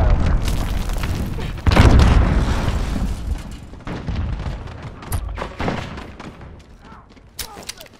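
A cruise missile strikes in Call of Duty: Modern Warfare multiplayer, a loud heavy boom that rolls off slowly, followed by scattered gunfire and pops amid battle noise and radio-style voices.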